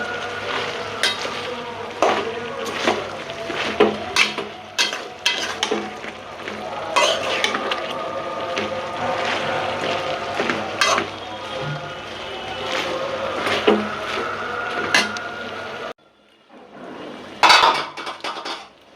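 Rui fish head and data greens being stirred in a pot, with repeated metallic scrapes and clanks of a spoon over a low sizzle, close and busy, then a short pause before a final clatter.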